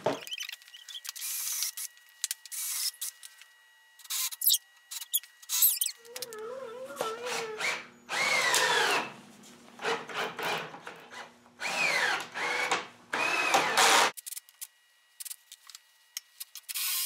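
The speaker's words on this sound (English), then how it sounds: "We're going to drill in here, and we're going to countersink using a Forstner bit." Bursts of drilling into wood with a Forstner bit, a whirring bit grinding through the material in several short runs separated by pauses, close by.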